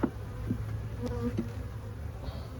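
Honey bees buzz around a week-old hive in a soft, steady drone, with a few brief louder passes close by.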